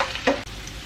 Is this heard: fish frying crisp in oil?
yes